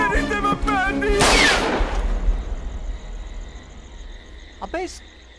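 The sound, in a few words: gunshot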